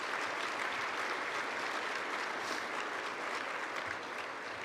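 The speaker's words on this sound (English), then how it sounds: "Give the students a welcoming round of applause" A room full of people applauds to welcome students at an economy and monetary policy event, a continuous, even wash of clapping that is fairly faint and tapers slightly at the end.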